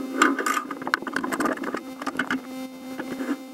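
Motor mount bolts being loosened by hand on a belt-driven motor in a resin wand-making setup, giving a run of sharp metallic clicks and rattles over a steady low mechanical hum, close and fairly quiet.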